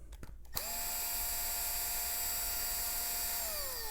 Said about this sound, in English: get yourself a good screw gun with torque settings